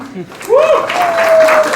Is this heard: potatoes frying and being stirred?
no